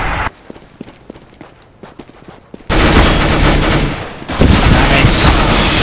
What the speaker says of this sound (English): He's got an AK.